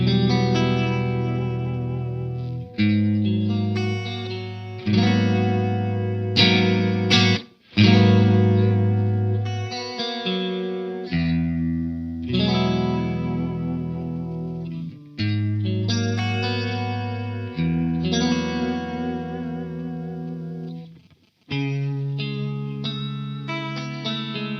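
Electric guitar through a Walrus Audio Julianna chorus pedal, playing ringing, strummed chords and arpeggiated phrases with a shimmering, spacious modulated tone, steady and close with brief pauses between passages and no speech.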